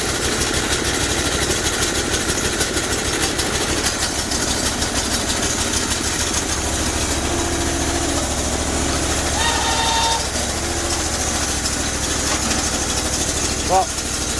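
A 20 HP Bolens 1600H hydrostatic garden tractor engine idles steadily and close by, a continuous low throbbing rumble with a slightly knocking beat that holds through the whole stretch, with a few faint clinks near the end.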